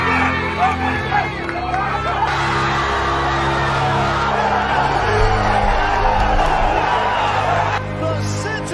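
Loud stadium crowd at a Bengals versus Buffalo Bills NFL game roaring and yelling in a sustained wave after a Tyler Boyd touchdown catch from Andy Dalton, dense babble and whoops throughout.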